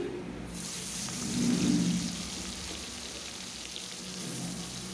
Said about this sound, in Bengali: কড়াইতে আমি সাদা তেল গরম হতে দিয়ে দিচ্ছি। এখন আমি চিংড়ি মাছগুলো সব দিয়ে দিচ্ছি।